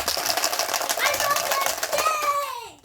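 Lego pieces clatter rapidly inside a plastic storage container, a busy close rattle while a voice chatters and squeals over it.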